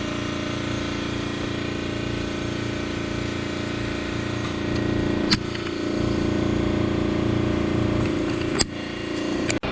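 Car engine idling steadily nearby during a GDI induction service with Wynn's cleaner fed onto the intake valve, a constant low hum with two brief sharp clicks partway through.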